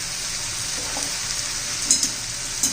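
Quiet, steady frying sizzle as homemade masala and red chilli powder cook in oil, with a few soft scraping stir sounds near the end.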